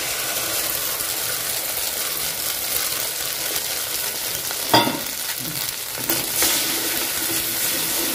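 Brain mixed with turmeric and salt fries in a pan, giving a dense continuous sizzle with a single sharp scrape of a stirring spoon partway through and no voices.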